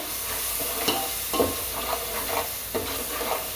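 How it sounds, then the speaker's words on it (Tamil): Tomatoes sauté in a frying pan for paneer biryani, giving a steady close sizzle with several soft scraping stirs of a spoon. "நல்லா தக்காளி வதங்கணும் டொமோட்டோ சரி டொமோட்டோ வதங்கணும்"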